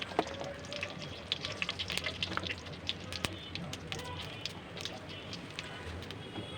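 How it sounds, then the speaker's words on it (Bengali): Panch phoron spices fry in mustard oil while being stirred, a dense crackling sizzle with scattered sharp pops and occasional utensil taps, close and moderately quiet. "সরিষার তেল এবং পাঁচ ফোড়ন দিয়ে এখন আমি নাড়া দিয়ে দিব ভালো করে নাড়া দেবো"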